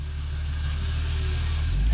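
A Jeep with a tire no longer attached, grinding against the frame: a steady low rumbling drone with constant noise, close and fairly loud, holding level throughout.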